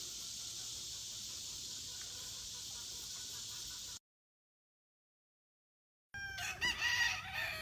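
A Kearney white hackle and black cross rooster crows outdoors, a sustained loud call for about four seconds, then silence and a short burst of further crowing and clucking.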